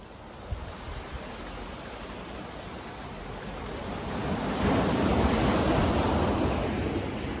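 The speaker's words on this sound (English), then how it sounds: "If you guys hear the waves in the background and the sea, that's the Atlantic Ocean." Atlantic Ocean waves break on the shore behind a waterfront hotel patio in Senegal, a steady hiss of surf that swells into a louder, nearer roar partway through, with light wind and no talking.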